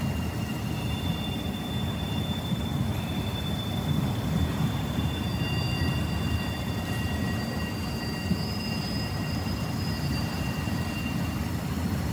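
A train runs along rails, a continuous heavy rumble with faint high wheel squeal lines drifting over it, steady and fairly close for the whole stretch, with no voices.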